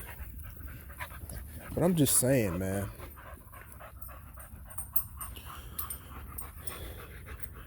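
A dog pants in quick rhythmic breaths close by, with a brief whiny vocal burst early on, while someone talks over it.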